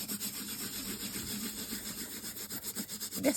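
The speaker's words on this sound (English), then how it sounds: "let me just give this a good old burnish now" A firm spongy tool burnishes gilding flakes onto an embossed surface with soft, quiet rubbing strokes in a steady back-and-forth rhythm, close up.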